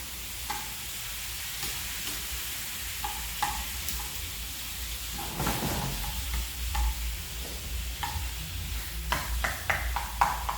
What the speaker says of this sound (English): Try to separate the minced meat. Just chop away like this.